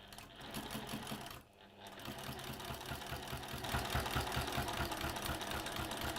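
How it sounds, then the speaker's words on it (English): A sewing machine fitted with a walking foot stitches layered fabric along a marked middle line, a continuous dense mechanical hum that stops briefly near the start, then runs steadily and grows slightly louder. "just sewing on that line that we marked that's in the middle of the rectangles"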